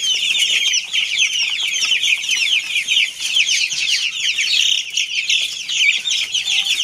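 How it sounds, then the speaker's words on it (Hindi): A red chicken chick peeps among other birds in a busy enclosure, making rapid, overlapping high chirps that form a dense, continuous twittering close by, with no talking. "ये रेड चूजा पता नहीं किधर से घुस जाता है"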